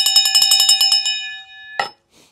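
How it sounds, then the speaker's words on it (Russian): A small bell rings in a quick, bright run of about a dozen strikes that fade out, then one final ding rings on alone in a quiet kitchen. "Не забудь про колокольчик."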